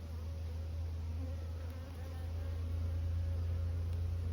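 Honey bees buzz steadily around a hive frame from a late-season swarm, a continuous droning hum with no pauses, close and fairly even in level, growing slightly louder partway through.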